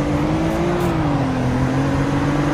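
A 2019 Buick Cascada accelerates hard from a standing race launch, its engine drone climbing and then settling into a steady, moderately loud whir close by, with no talk.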